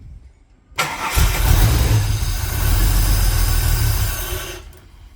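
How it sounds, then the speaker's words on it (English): A Holden VY Calais engine cold-starts on E85 after a quiet moment, catching into a loud rough rumble that runs for several seconds before cutting off abruptly. "Just cold start"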